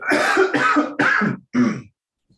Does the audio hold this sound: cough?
yes